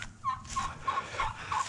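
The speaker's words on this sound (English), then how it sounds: "So we're gonna go ahead and let the turkeys out." Turkeys gobble in a series of short warbling bursts over steady low background noise, fairly near and moderately loud, with no speech.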